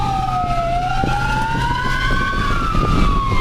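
An ambulance siren wails loud and close, its rising and falling tone sweeping steadily over the hum of road traffic while driving through Europe.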